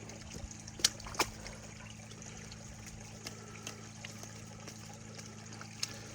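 Small natural spring with water trickling out of a pipe, a faint, thin dribble beneath a low steady hum, broken by a few sharp clicks and knocks.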